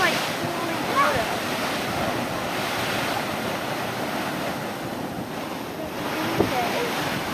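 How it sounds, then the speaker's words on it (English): A waterfall pours with a steady, loud rushing roar of falling water that fills the whole stretch, with some wind buffeting the microphone and no clear talk. "It's like falling water."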